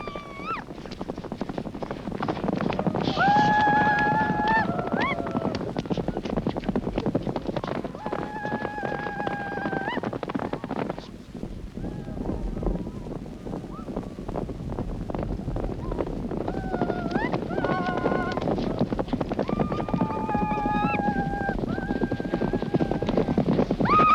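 Horses galloping in a Mongolian horse race with young riders, a dense continuous drumming of hooves across open country, with whinnies and tonal calls rising above and wind buffeting the microphone throughout.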